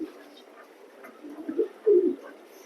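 A male grizzle racing pigeon coos close by in a loft, soft low murmurs rising into two louder, throaty coos near the end.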